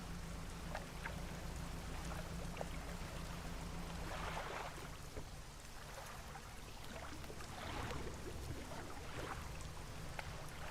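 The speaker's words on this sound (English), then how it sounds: "Can you, like, hear the waves lapping and stuff?" Water laps and splashes steadily against a fishing boat in the video game DREDGE, a soft continuous wash with scattered drips and no talking.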